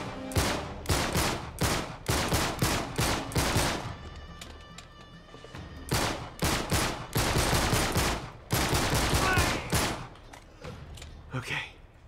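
A pistol fires in the video game Uncharted 3: Drake's Deception, with loud, rapid strings of shots and one brief lull before the shooting resumes heavily.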